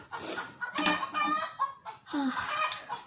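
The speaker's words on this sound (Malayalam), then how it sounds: "കോഴി ഭയങ്കര സൗണ്ട്" A rooster calls loudly and close by in the morning, giving several harsh, strained bursts in quick succession with short gaps between them.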